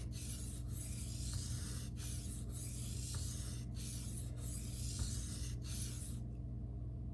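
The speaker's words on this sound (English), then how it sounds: "This has been like the easiest sharpening of my life." A kitchen knife drawn steadily across Shapton Glass and Naniwa whetstones, a continuous hissing rasp broken by short gaps between strokes, close and fairly quiet over a low steady hum.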